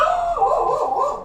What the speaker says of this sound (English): Mute this if my dog keeps barking here.